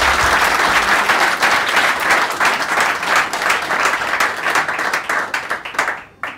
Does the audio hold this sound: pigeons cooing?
no